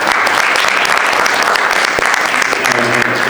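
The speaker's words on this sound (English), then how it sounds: "Give Diego a round of applause," A conference audience at an international drug policy event gives Diego a round of applause, steady and loud full-room clapping throughout.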